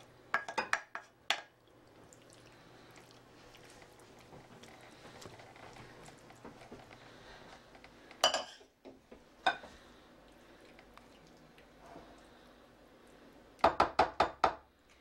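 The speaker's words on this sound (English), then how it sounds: "I'm going to transfer this to a casserole dish." Salmon mac and cheese being moved from the pot into a casserole dish: bursts of metal-on-dish knocks and clinks at the start, middle and end, with quieter scraping between them.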